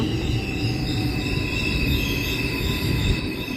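A subway train pulls into a station in South Korea, a loud continuous rumble of wheels on rail with high steady squealing tones running throughout, no voices.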